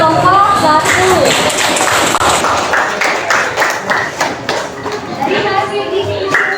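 A classroom group's presentation draws applause: a steady burst of many hands clapping, loud and continuous, mixed with children's voices and chatter.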